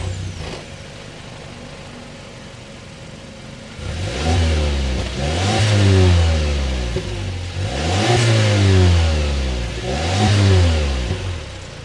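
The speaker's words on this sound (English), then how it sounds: "start up this signature turbo so you can hear that exhaust note" A 2023 Mazda CX-5 Signature with the 2.5-liter turbo four fires up after a quiet moment, then revs repeatedly in rising and falling swells, a loud, close exhaust note with no talking.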